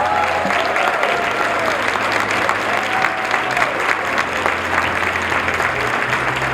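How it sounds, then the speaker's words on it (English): Audience at the YMCA Black Achievers awards celebration giving a sustained round of applause for the youth achievers, steady dense clapping with some whistles and cheers. "please give them a round of applause"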